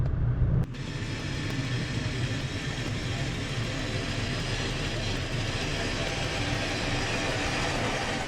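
After a sudden shift, a 13,000 lb winch motor pulling a truck in neutral up a hill drones steadily and evenly, a continuous mechanical hum with a low rumble underneath and no talking.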